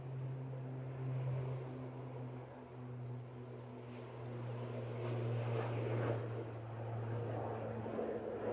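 An EasyJet airliner arriving at Manchester Airport makes a steady distant engine drone with a low sustained hum, holding at a moderate level for several seconds and swelling slightly toward the end.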